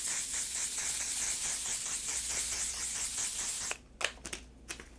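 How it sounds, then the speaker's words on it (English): Setting spray mists onto a face in a continuous fine hiss for nearly four seconds, close and steady. A few soft clicks and taps of handling follow. "Then we're just gonna go into the Until Dawn setting spray."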